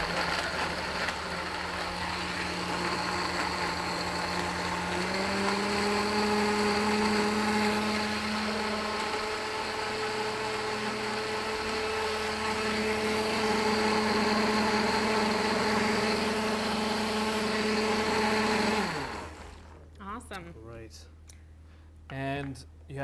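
A blender whirs steadily while mixing a dairy-free mulled apple smoothie. The motor drones close and loud for about nineteen seconds with a shift in pitch partway through, then cuts off, followed by a few quieter clunks.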